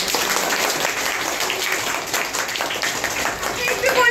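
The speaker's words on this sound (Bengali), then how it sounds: "সবাই জোরে একটা তালি দাও" Primary school students clap together at a fifth-grade class party and farewell, a dense, lively patter of applause filling the room with voices mixed in.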